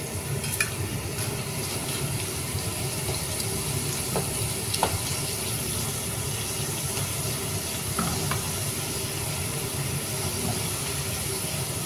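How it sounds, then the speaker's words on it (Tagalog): Fresh potato chips crackle and sizzle steadily in hot oil during a second fry meant to crisp them, a dense continuous frying hiss with occasional small pops throughout, no voices. "ilagay natin yung first batch at second batch. I-make fry natin uli."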